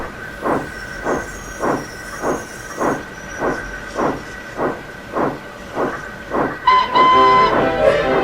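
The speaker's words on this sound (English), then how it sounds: ""Cheers, sir," whistled Geoffrey, and he puffed away." A steam engine puffs rhythmically in about ten evenly spaced chuffs, and a shrill steam whistle blows loudly at the end.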